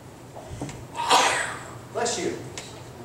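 A single person sneezes, a sharp burst followed by a second softer breathy sneeze or snort during a church sermon, with room ambience around it.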